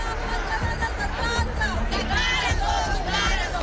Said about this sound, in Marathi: शिवसेना भवन समोर मोदी सरकारच्या विरोधात जोरदार घोषणाबाजी करण्यात आली